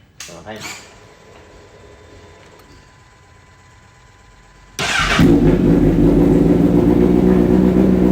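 A quiet stretch with faint background noise, then a Kawasaki H2 superbike engine fires up into a loud, steady, rumbling idle.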